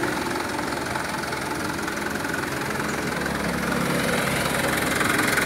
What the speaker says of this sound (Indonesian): Mitsubishi Colt Diesel 4000 cc